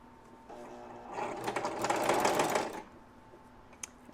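A home sewing machine stitches close to the edge of fabric backed with grippy non-slip material, a steady mechanical whir that rises for about two seconds mid-clip over a low room hum, with no speech.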